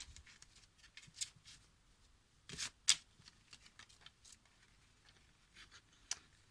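Slick, slippery tarot cards are shuffled by hand, giving quiet, close riffling swishes and soft taps, broken by a few sharper snaps of the deck.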